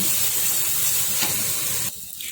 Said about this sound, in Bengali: এটাকে এবার ভালো করে মিশিয়ে কষিয়ে নেব